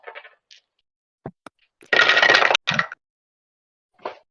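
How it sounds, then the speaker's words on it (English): Many dice rolled onto a surface during a tabletop role-playing game session: a short, dense clattering burst with scattered sharp clicks before and after, heard alone. "the sound of many dice hitting a thing"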